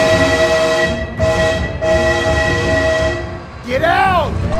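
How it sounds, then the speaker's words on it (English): Train horn blaring in long sustained tones, loud and close, repeating three times in an animated toy-car scene, followed by a swooping sound effect at the end. "Oh my god, train!"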